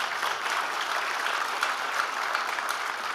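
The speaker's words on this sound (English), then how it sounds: "One round of applause for courage." A small crowd claps steadily for a few seconds, a dense patter of applause without cheering.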